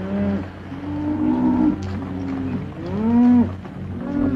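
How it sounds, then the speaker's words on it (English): Cattle in a herd being driven on a Western trail moo repeatedly, several long drawn-out calls overlapping at close to mid distance, with a low background rumble and no talking. "Keep the cattle moving."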